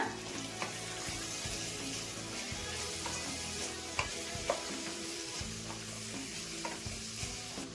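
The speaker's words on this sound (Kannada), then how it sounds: "ಇವಾಗ ತರಕಾರಿಗಳೆಲ್ಲ ಎಣ್ಣೆಲೆ ಬಾಡ್ಸ್ಕೊಂಡ್ಬಿಡೋಣ." Vegetables including grated carrot and chayote sautéing in oil in a pan, a steady sizzle broken by scraping stirs and a few sharp clinks of a utensil against the pan.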